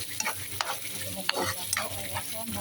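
Beans fry with a soft, steady sizzle in a pan, broken by a few sharp scrapes and clacks as they are stirred, close and fairly quiet.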